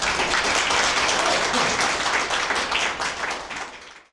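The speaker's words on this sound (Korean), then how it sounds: "박수 부탁드립니다" Audience applause at a lecture hall talk on AI and future industry strategy, a full, steady wash of clapping that fades out at the close.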